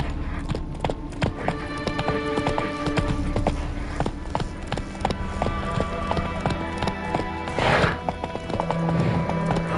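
A horse gallops in The Witcher 3, its quick hoofbeats clattering steadily and close, with a brief neigh near the end over game background sound.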